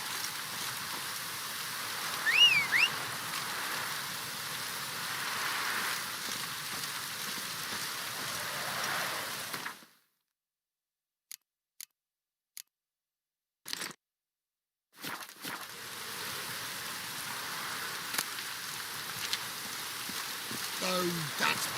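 Steady rain in The Witcher 3: Wild Hunt patters and hisses, cut off by a stretch of near silence with a few soft clicks before the downpour resumes.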